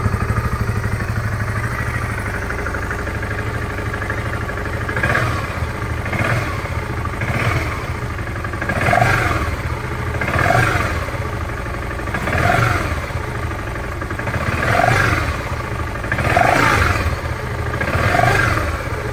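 A 2014 BMW G 650 GS motorcycle idling with a steady single-cylinder thrum, then revved in a series of short throttle blips every couple of seconds, close and loud with no talk.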